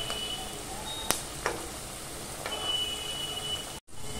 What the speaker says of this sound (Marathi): वड्या ना दोन्ही बाजून असे खरपूस तळून घ्यायचे आहेत.